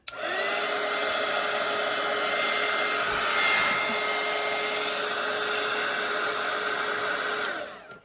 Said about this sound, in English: I'm just going to dry this part really quick